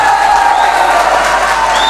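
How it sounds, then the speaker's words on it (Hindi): Audience at a humorous Urdu poetry mushaira in Banaras claps loudly and continuously, a dense close wash of applause with a steady tone humming underneath. "एक बार लुंगी के नाम ताली हो जाए।"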